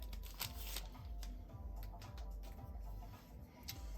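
A sealed pack of 2025 Leaf Vivid baseball trading cards is opened up close, with continuous soft crinkling, rustling and flicking of wrapper and cards, faint and steady.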